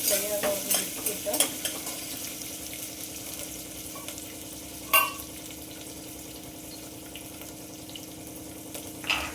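Chopped onion, chilli and capsicum fry and get stirred in a pan, a steady close sizzle with scraping spoon strokes and a few sharper clinks.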